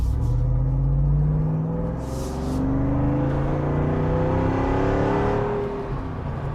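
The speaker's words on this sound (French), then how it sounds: "si je peux entendre ce moteur hurler toute la journée, on s'en lasse pas" A Jeep Wrangler SRT392 with its V8 engine revs hard, a deep loud rumbling roar rising and easing in waves, close and alone with no talk.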